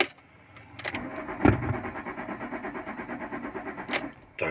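Car fitted with an immobilizer failing to start: a key jangle and click, then the starter cranking in a steady repeated rhythm for a few seconds without the engine catching, ending with another click, close and clear.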